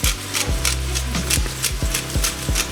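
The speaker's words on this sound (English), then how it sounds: "I'm using peppercorn medley, the grinder. I like grinding my peppers." A pepper grinder is twisted to crack a peppercorn medley, giving a close, steady run of rhythmic grinding rasps, about six even strokes, with no talking.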